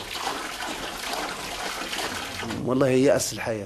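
Water running and splashing as people wash with water drawn from underground sources in war-affected Tripoli, Libya, a steady broadband wash for about 2.5 seconds before a voice cuts in over it.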